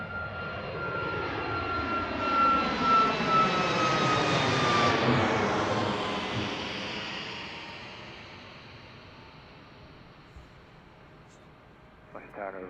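Southwest jet airliner departing Washington Reagan National Airport, a loud roaring engine rumble that swells as it passes and then fades steadily into the distance, with radio voices talking over it.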